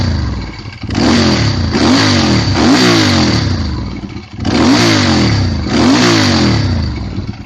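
A carbureted Ducati motorcycle engine with a dry clutch revs hard in two loud bursts of repeated throttle blips, close up, with a brief drop to idle between them.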